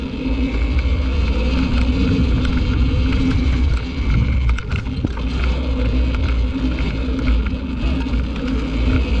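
A TKO ECR Emoto electric RC car runs at full throttle, giving a steady, loud motor whine and rumble that holds without a break for the whole stretch.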